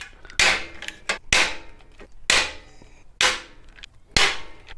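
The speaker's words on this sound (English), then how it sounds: "And then we're just going to pop rivet these in." Hand riveting 5/32 pop rivets while building a chase light, six sharp loud snaps about one second apart, each rivet breaking with a crack and a quick fading ring, close up between soft mechanical clicks, no speech.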